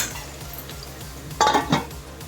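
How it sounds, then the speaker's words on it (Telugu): A lid goes onto a pan of frying onions: a soft sizzle runs throughout, then two sharp metallic clanks close together near the end. "ఇప్పుడు మూత పెట్టేసుకుందాం."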